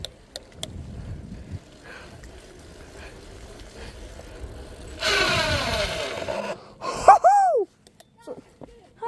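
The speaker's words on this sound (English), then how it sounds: "I gotta do one last skid." A bicycle's rear tire skids under a held back brake on a casual ride, a short scraping burst near the middle followed by squeaky brake-like chirps and faint breathy sounds, fairly quiet outdoors.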